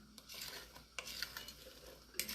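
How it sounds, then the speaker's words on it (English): Wooden spoon stirring cranberries in a pot, soft scraping and swishing strokes with a few light taps against the pot, quiet and close. "We're just going to give this a stir"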